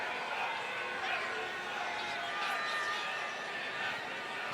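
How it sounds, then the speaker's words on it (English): Football stadium crowd at a college game between Memphis and Tulane, a steady broad roar of many voices reacting unhappily to a penalty call, continuous and moderately loud without clear peaks. "Crowd not happy. You can hear them."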